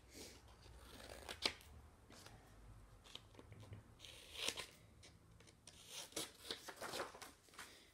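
Scissors cut a paper zigzag book in quiet, close snips and rustles, with sharper clicks scattered irregularly through the clip.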